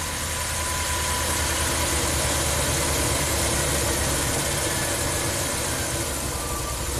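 A Ram camper van engine runs at light throttle after a hot soak, with a stalling fault. It makes a steady, loud, close mechanical drone with no break across the whole stretch.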